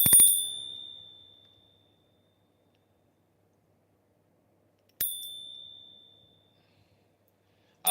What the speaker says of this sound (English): I don't know if this is supposed to be a Liberty Bell.